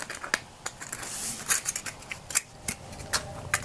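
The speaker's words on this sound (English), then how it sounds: "give it a little bit of cut on the other side going down" Scissors cut into a soda pop can while building an alcohol stove: a series of close, crunchy metallic snips and scrapes with irregular rhythm over a few seconds.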